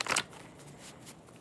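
A single deck of playing cards shuffled by hand, a quick close riffle burst at the start followed by softer fluttering card sounds, with a second lighter riffle near the end.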